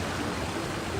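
A waterfall in the game Genshin Impact pours as a steady, close, broadband rush of falling water, unbroken and alone.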